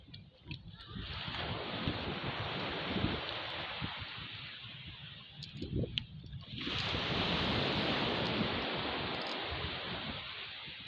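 Ocean surf rolls in at Maheshkhali sea beach, a steady broadband roar mixed with wind buffeting the microphone, briefly easing around the middle before swelling again, with no talk.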